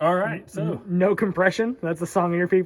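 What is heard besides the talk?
No everyday noises stand out.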